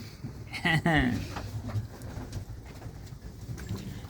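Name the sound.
pigeons cooing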